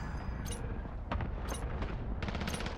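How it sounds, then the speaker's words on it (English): Precision airstrike blasts in the video game Call of Duty: Modern Warfare, a series of sharp cracking bursts and thuds at irregular intervals over a low rumbling background, fairly faint and without talk. "Friendly precision airstrike inbound."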